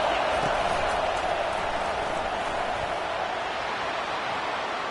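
Stadium crowd roaring in a football video game on third down, a dense continuous wash of noise holding at an even, loud level.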